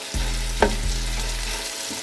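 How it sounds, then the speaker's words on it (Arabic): Chicken pieces fry in butter and oil for a kabsa rice dish, giving a steady close sizzle with one sharp clatter of stirring partway through and a softer scrape after it. No one speaks. "غادي نخلي الدجاج يتقلى شويه في الزبده"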